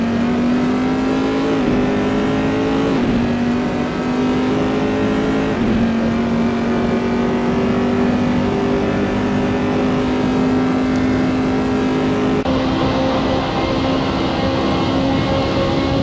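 BMW and Corvette race cars in a Gran Turismo race at Bathurst, engines droning loud and steady with rising and falling pitch through gear changes, continuous throughout with no talking.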